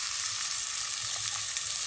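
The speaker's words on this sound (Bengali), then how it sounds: "একটু হালকা একটু ভেজে নিব" Catfish frying lightly in hot oil in a pan, a loud, continuous bright sizzle held steady throughout with only faint low rumbles beneath.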